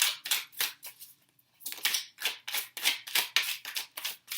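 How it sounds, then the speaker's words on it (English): A deck of tarot cards is shuffled by hand in rapid rhythmic bursts of crisp papery flutters and slaps, with a short pause partway through before the shuffling picks up again steadily. "I saw a card flip over, but I wanted to shuffle."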